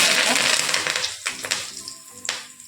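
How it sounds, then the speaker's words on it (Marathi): Mustard seeds hitting hot oil in a small tempering pan off the heat, for a tangy sweet curd chutney, giving a bright crackling sizzle that fades after the first second, followed by scattered sharp pops and a couple of light metallic clinks. "त्यानंतर आपण त्यात घालतोय मोहरी"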